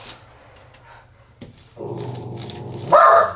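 A guard dog barks and yelps indoors in a few short bursts, the last one loud and sharp, with no talking over it.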